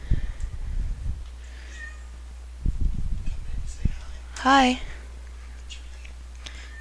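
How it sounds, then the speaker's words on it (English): A pet cat gives a single clear, drawn-out meow partway through, close by, between stretches of people talking and indoor movement noise. "That's my cat."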